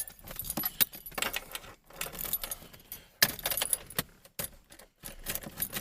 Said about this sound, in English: here's our keys.